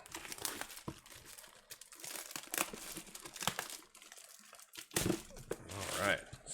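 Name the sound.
opening sealed Magic Origins fat pack packaging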